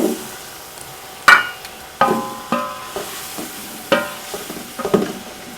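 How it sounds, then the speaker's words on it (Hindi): Cubed potatoes fry in masala in a pan, sizzling softly while a spoon scrapes and stirs. The stirs come in several distinct bursts, close up, and no one speaks. "हमने आलू को जो है वो फ्राई कर लिया है"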